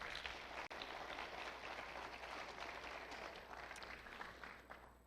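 Applause at a school board athletics recognition meeting, a steady wash of clapping from a group, faint and distant throughout.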